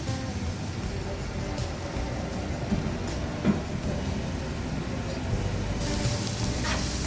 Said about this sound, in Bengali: এখন এই রসুন কুচিটাকে আমি হালকা ভেজে নিচ্ছি